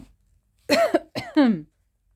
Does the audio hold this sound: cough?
yes